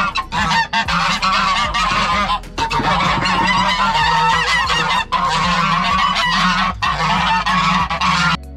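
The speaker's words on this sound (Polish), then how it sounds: "wszystkie gęsi wygonione już po paru chwilach" Farmyard geese honk loudly and continuously as they are chased off their nest, a dense overlapping chorus of harsh calls close by.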